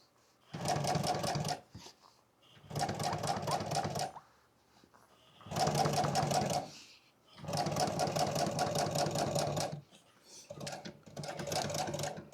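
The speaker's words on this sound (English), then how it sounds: "So I'm only going to sew up to about right there." A sewing machine stitches motorcycle seat upholstery in five steady runs of rapid, buzzing needle strokes, separated by short pauses of near silence.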